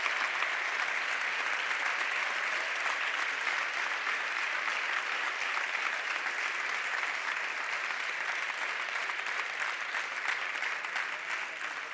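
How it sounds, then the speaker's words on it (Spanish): Sustained audience applause at a 2019 sports awards ceremony: a dense, even wash of clapping from a large crowd that holds steady and loud for the whole stretch, with no pause. "Fuerte el aplauso para todos y todas ellas."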